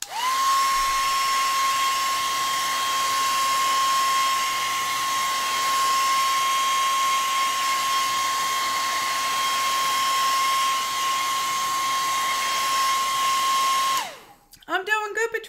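A hair dryer blows on painted paper in an art studio, a loud steady whirring hum held at a constant pitch for about fourteen seconds before it switches off and brief rustling follows.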